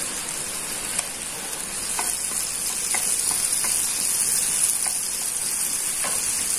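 Cardamom sizzles in a pan during butter chicken preparation, a dense steady frying hiss dotted with small pops and crackles, close and fairly loud, with no voices.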